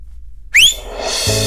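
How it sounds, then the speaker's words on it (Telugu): A person whistles in a comedy film scene, giving one sharp rising and falling whistle that is loud and close, followed by a brief lower tone and a sustained background hum. "విజిల్ వేస్తే కరెంట్ వస్తుందండి. విజిల్ అయితే నాకొచ్చు."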